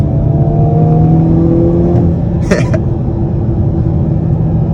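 A 2022 Hyundai Kona N on the highway gives a steady, loud engine drone and road rumble under acceleration, heard from inside the car, with a brief faint whoosh partway through.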